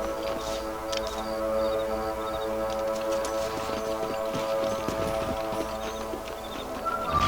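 Horse hooves clip-clop steadily through a Red Dead Redemption game scene, with rhythmic galloping under a continuous musical score and ambient game sound at fairly even loudness throughout.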